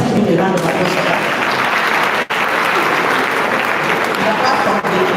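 A sustained round of applause from a crowd at an agricultural services capacity event, loud and dense throughout with a brief dip in the middle, some voices mixed in beneath the clapping.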